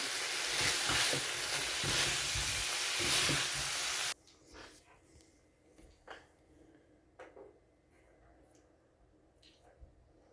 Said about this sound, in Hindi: दो 3 मिनट अच्छे से पकाएंगे, इसको भूनेंगे।